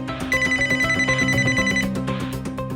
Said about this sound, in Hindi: तो मैंने तुरंत उसके दोस्त विक्रम को फोन लगाया।